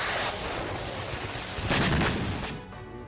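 Gunfire crackles through a gun fight between Russian and Ukrainian soldiers as a dense, continuous roar of shots with a louder burst near the middle, and no voices are heard.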